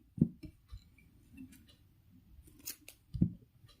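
Scissors snip crochet yarn in a quiet room, a few crisp, close clicks of the blades spaced irregularly, with faint light ticks between cuts.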